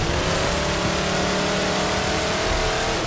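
In the video game Halo 4, an approaching Covenant alien vehicle's engine holds a loud, droning roar with a low rumbling hum, constant and close throughout.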